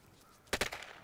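A new submachine gun fires in the online survival shooter Will To Live Online, two quick close shots in rapid succession, loud and sharp against a quiet background.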